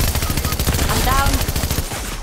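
Rapid automatic gunfire in a Fortnite squads match, a dense loud burst of repeated shots packed tightly together and continuing throughout, with no speech over it.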